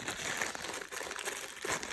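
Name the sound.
crinkling sample packet being handled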